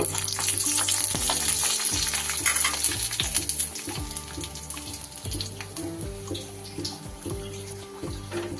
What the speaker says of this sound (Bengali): বড়িগুলোকে আগে লাল লাল করে আমি একটু ভেজে নেব।